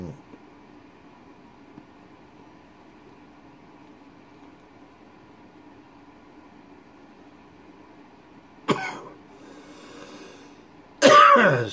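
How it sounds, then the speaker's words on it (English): After a long quiet stretch of low hum, a sharp cough bursts out, followed moments later by a second, louder cough. "Still have that cough."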